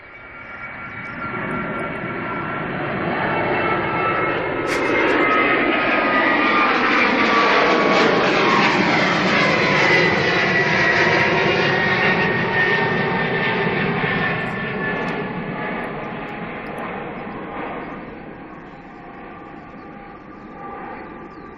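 An empty Boeing 757 on a test flight roars down the runway and climbs steeply away at Manchester Airport. The jet engine noise swells to a loud, broad roar, then fades slowly as it departs. No voices.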